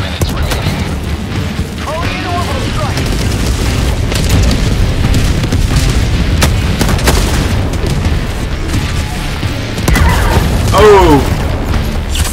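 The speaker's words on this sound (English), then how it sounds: "My mortar blew me up." Mortar explosions in Helldivers 2 gameplay, a couple of heavy booms with rumbling debris under a player's brief exclamation and chatter, loud and close.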